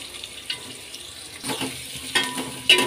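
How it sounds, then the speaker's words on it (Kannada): Onions dropped into hot oil with curry leaves and chana dal sizzle in short bursts, with stirring scrapes and a few louder surges of frying, close to the pan. "ಕರ್ಬೇವಿನ ಸೊಪ್ಪು, ಕಡಲೆಬೇಳೆ, ಈಗ ಈರುಳ್ಳಿ ಹಾಕ್ಕೋಬೇಕು."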